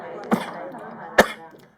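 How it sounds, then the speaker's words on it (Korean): Two short, sharp coughs about a second apart, close and moderately loud, with faint murmuring of a voice in between. "내가 기침 좀 하고"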